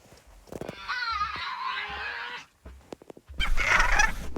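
Gallimimus dinosaurs in the Minecraft Paleocraft mod give squawking, fowl-like calls. One long, warbling cry is followed by a harsher burst, close and fairly loud, with no talk.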